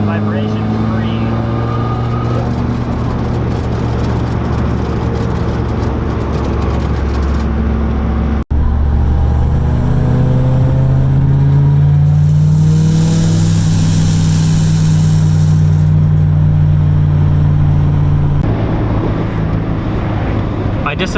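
A Mazda Miata with a transmission kit and upgraded driveshaft cruising at freeway speed, loud in-cabin engine drone and shifting road and wind roar, with a brief dropout partway and rising engine pitch later.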